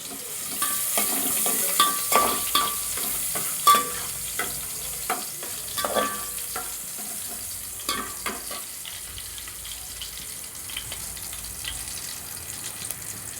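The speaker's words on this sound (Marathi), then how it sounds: "कांदा घातला फोडणीला, कांदा थोडा परतवून घ्या" Chopped onion sautéing in hot oil with turmeric and masala in a pan for Malvani crab curry: a steady sizzle broken by repeated scraping stirs of a spoon, close and clear.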